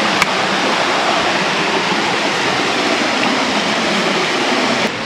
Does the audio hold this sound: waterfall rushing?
yes